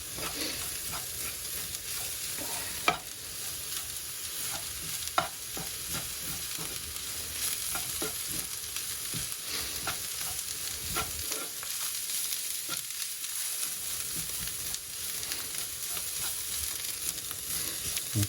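Coriander frying in a pan for a homestyle curry, a continuous close sizzle and crackle with occasional scraping stirs and a couple of sharp taps, no voices.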